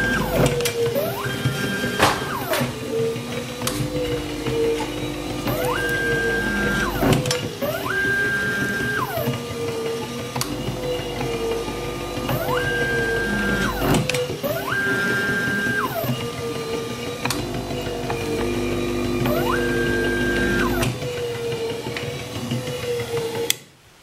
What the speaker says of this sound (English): I didn't want to talk while this machine is running because it's loud, relatively